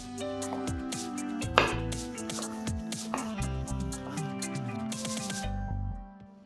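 A knife chops red peppers repeatedly on a cutting board, quick uneven taps with faint background hum, no talking.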